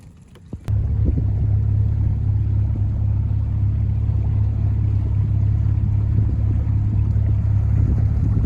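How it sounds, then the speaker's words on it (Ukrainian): A boat motor warms up at idle on the Desna river on a snowy November morning before pike fishing. After a brief click it settles into a steady, loud, low rumbling drone that holds evenly throughout, with no voices. "Моторчик уже в мене прогрівається."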